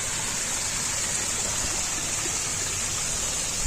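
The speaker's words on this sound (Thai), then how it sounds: "ได้ยินเสียงน้ำตกนี้ชัดเจนเลยนะครับ" Steady, continuous splashing of a decorative artificial waterfall in a landscaped garden beside a PTT petrol station near Mae Rim, heard up close with an even, unbroken rush and no voices.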